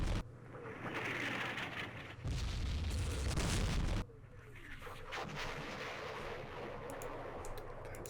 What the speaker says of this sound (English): Let's use our artillery, direct fire at these things